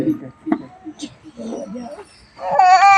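An actor in an outdoor street play imitates a crying baby, with short halting whimpers that rise into a loud, sustained wail at the end, mixed with other voices.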